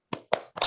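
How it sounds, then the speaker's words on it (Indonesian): Three sharp, close claps in quick succession from a classroom of children doing a "tepuk semangat" spirit clap at the end of a lesson, each burst short and bright, no talking. "Ya, tepuk semangat dulu ya untuk mengakhiri kegiatan hari ini."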